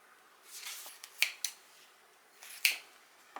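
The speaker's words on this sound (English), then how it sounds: "let's see if these scissors will cut it" Scissors cut through fabric for a sewing project, with a soft swish of material and three or four crisp, close snips at irregular intervals.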